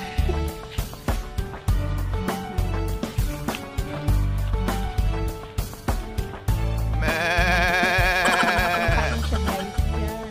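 A goat on a small rural grassland bleats loudly and close by, with a long wavering cry near the end over a busy background of repeated knocks and other noises.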